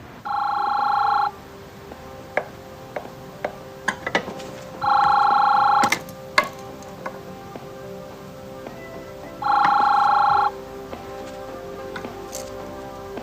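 A telephone rings in three long bursts separated by pauses, loud and close, with faint rustling between the rings and no one speaking.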